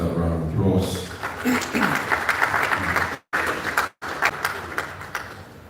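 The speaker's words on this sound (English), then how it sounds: "Let's just give him another round of applause." Conference audience applauding at an industry event, a dense crowd of clapping running steadily for several seconds with two brief cuts to silence, while a voice speaks over the start.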